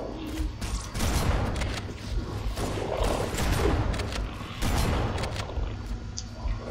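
Gunfire in the Halo: Combat Evolved game, a dense, sustained run of loud shots and impacts with several heavier bursts across the clip.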